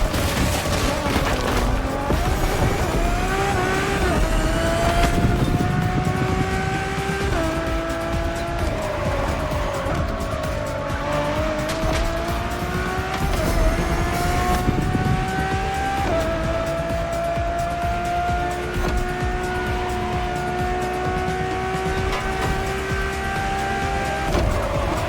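A road-legal Ferrari hypercar styled by Pininfarina drives hard in The Crew Motorfest, its engine loud and close, rising in pitch through repeated gear changes with tire squeal and a steady roar under a voice speaking.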